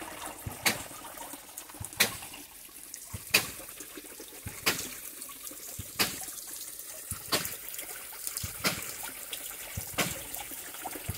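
Water from a hydraulic ram pump delivering drinking water trickles and splashes steadily, punctuated by sharp periodic knocks from the pump about every second and a half, close by and without speech.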